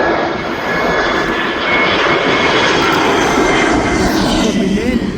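An EasyJet airliner arriving at Birmingham International Airport and touching down, its engines a loud, steady roar that fills the whole clip, with faint voices underneath.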